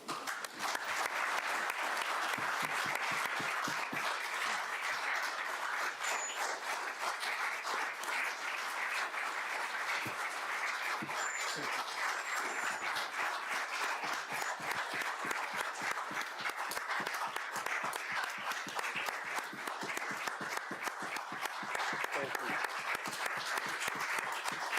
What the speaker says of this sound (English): Now, you know damn well they ain't clapping for me.